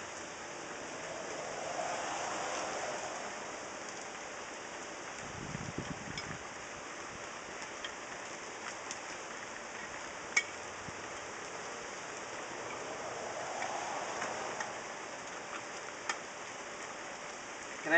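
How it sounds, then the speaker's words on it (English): Warm summer rain falls steadily in a soft, even hiss at low volume, with occasional faint drips and taps and no voices. "It's a warm rain, though."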